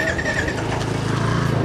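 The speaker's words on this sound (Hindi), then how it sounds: "गाड़ी सेल्फ लेगी बट स्टार्ट नहीं होगी क्योंकि स्टैंड लगा हुआ है।" A 2020 Royal Enfield Signals 350 BS6 motorcycle with ABS, its electric self-starter cranking with the side stand down so it never fires; a short, loud, rapid mechanical churning close by with no voices.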